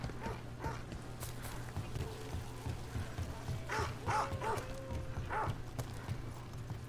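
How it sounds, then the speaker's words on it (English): Dogs bark in Dragon Age: The Veilguard, a few faint, scattered barks over a steady low game ambience hum and light footstep-like clatter, distant and soft. "So many dogs."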